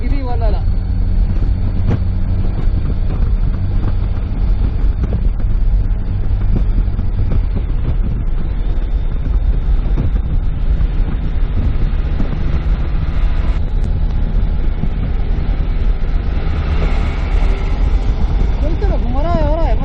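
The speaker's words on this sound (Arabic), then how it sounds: "هوا اقسم بالله انه قوي" Strong wind buffets the microphone for a steady twenty seconds during a drive on a road near farms and houses, a continuous low rumble with engine and road noise mixed in.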